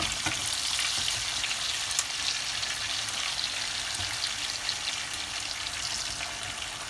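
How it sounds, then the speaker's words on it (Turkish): Meatballs for kebab frying in hot oil give a continuous, even crackling sizzle with tiny pops, steady and close throughout with no voices. "burada kızarırken biz de sosu hazırlayalım yan taraftan"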